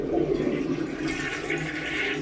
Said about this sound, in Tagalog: Yung flush.